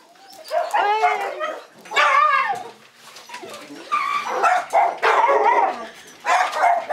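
Several of a household's roughly 150 dogs bark and yelp in overlapping bursts nearby, a busy, continuous chorus with whimpering tones mixed in.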